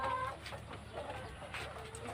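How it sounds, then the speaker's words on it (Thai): Chickens cluck softly on a farm at a garden in Surin, Thailand, scattered faint calls over a quiet background, with light talking nearby. "ดีนะไก่เขาไม่ตกใจนะคะ"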